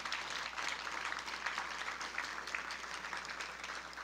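Applause at an awards ceremony for the winners of the Building Brooklyn Awards: an audience claps steadily and densely, heard somewhat distant and even in level throughout, with no speech over it.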